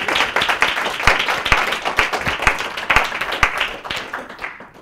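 Audience clapping at a talk on making your own healthcare and doing without the FDA, a steady patter of many hands held for about five seconds before tapering off, with a faint voice briefly underneath.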